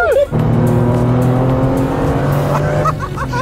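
A car overtakes on the right during a Porsche road trip, its engine droning loudly and steadily with tire noise rising and falling as it passes close by, filling the whole stretch.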